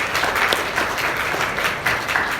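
A church congregation claps together at a 23rd anniversary thanksgiving service, a loud, dense and steady round of applause that fills the whole moment.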